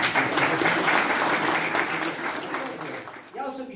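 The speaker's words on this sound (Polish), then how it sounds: "duże brawa tak zaocznie dla niej" An audience in a hall applauds at the opening of the tour-guide season in Prudnik, a loud, steady clapping crowd that fades near the end as a voice starts.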